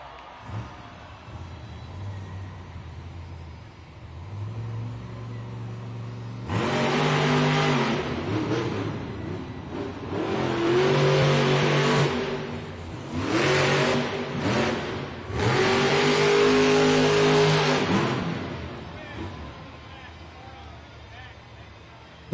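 The El Toro Loco monster truck engine roars in a Monster Jam arena run, starting from a low rumble and then surging through several loud, revving bursts with pauses between them, with crowd noise and an announcer's voice.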